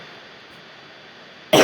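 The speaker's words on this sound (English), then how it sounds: "I have such a bad cough today." A single sharp, loud cough from a man with a dry throat bursts out at the very end, after a stretch of quiet room tone with no talking.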